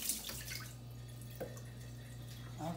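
Water being poured off a pot of boiled potatoes in a kitchen, a steady close splashing and trickling stream with occasional drips over a low background hum.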